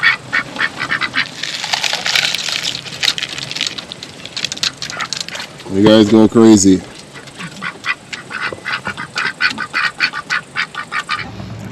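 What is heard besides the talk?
ducks quacking while feeding on sunflower seed and duck food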